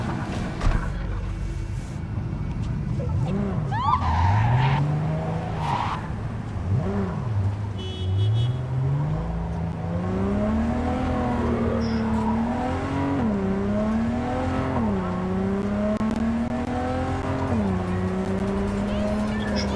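Car driving during a chase in the video game Cyberpunk 2077, an engine rising and falling in pitch as it revs and shifts through gears, with someone speaking over it at times.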